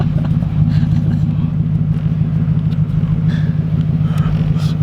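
Porsche GT3RS idling close by with a deep, steady low rumble that holds level throughout, alongside another car that is shaking.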